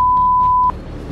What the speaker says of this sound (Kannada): ಬೀಪ್ ಸೌಂಡ್ ಇಲ್ಲದೆ ಈ ಆಡಿಯೋ ಕೇಳೋಕ್ಕಾಗಲ್ಲ